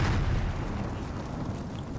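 Howitzer artillery fires in a battle in Empire: Total War, a dense, rolling boom that fills the whole moment with heavy low rumble and no talking.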